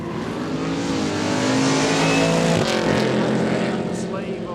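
Race cars launching at a quick street drag day at Kooralbyn Valley, a loud continuous engine roar with rising revs and tyre spin that builds and holds throughout, close and dominant.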